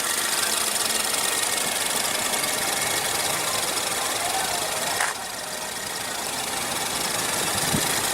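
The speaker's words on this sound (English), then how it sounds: "This powertrain is also pretty smooth too, providing decent acceleration at the times you need it." A 2.0-litre four-cylinder turbo engine in a 2015 Ford Fusion runs steadily at a close, even idle with a light, busy mechanical clatter, dipping slightly in level partway through, and no voices.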